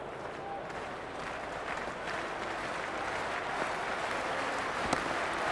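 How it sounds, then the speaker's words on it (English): Stadium crowd at an India vs Australia women's T20 World Cup cricket match, a dense continuous roar of cheering and applause filling the air, with a sharp clap or crack standing out near the end. "this crowd is already making it hard for me to be heard."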